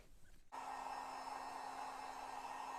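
A heat gun warming the adhesive behind a badge on a 2022 Chevrolet Silverado 3500 HD Z71 switches on after a half-second of quiet, then blows with a steady, even whooshing hum close by.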